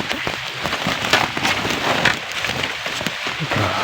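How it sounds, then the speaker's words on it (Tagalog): Heavy rain patters steadily on nearby surfaces with a dense, hissing wash and scattered sharper drops, continuous throughout, during a fishing trip. "Malakas yung ulan siguro ngayon"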